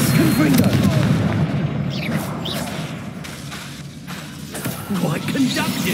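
Confringo spell explosions booming repeatedly during a Hogwarts Legacy video game battle, dense rumbling blasts and whooshes with shouting voices mixed into the steady, loud combat din.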